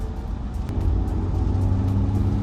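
Steady engine drone and road rumble from a BMW F32 420i four-cylinder car on the move, heard from inside as a constant low roar with no talking.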